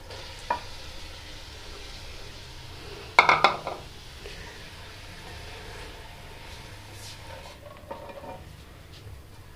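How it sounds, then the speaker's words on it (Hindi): Rice stir-fried in a pan for egg fried rice: a soft steady sizzle under scraping stirs and a brief burst of clattering utensil knocks, close and otherwise quiet, with no voices. "अब हम इसमें चावल शामिल कर देंगे।"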